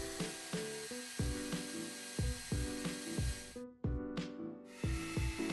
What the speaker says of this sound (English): For the inside, I used the rotary tool and a bit of sandpaper